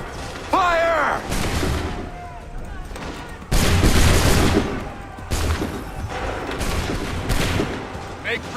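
Musket volley fire in the video game Assassin's Creed 3 Remastered, loud bursts of gunfire cracking out in several waves amid battle noise, with shouted voices mixed in.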